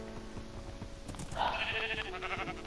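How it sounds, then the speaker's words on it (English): A sheep in the video game Minecraft bleats loudly and close, a wavering cry that rises and carries over soft background game sounds and faint clicks. "Now kill this dumb sheep"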